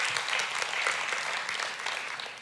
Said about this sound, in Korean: 크게 한번 박수 한번 해주십시오.